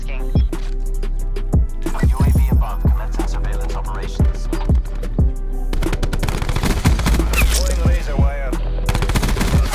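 Rapid bursts of Switchblade X9 submachine gun fire in a first-person shooter, loud and close, with sharp shots in quick runs and a denser stretch of continuous firing toward the end.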